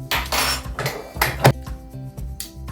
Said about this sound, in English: I'm going to whisk up the double cream and the cream cheeses